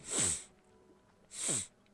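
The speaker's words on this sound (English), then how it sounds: "oh, I feel a sneeze coming on" Two quick, sharp sneezes from one person, close and fairly soft, spaced about a second apart with near silence between.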